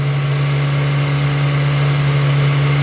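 A Nissan X-Trail T30 engine runs steadily near 2000 rpm while being tuned, giving a loud, constant drone with a strong low hum throughout and no voices.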